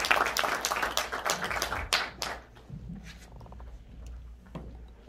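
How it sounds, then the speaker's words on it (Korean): Audience applause closes the founding ceremony of the Honam Alternative Forum in November 2020: a dense burst of clapping from the gathered members that thins and fades after a few seconds into scattered claps and room noise. "박수 치면서 마무리하도록 하겠습니다"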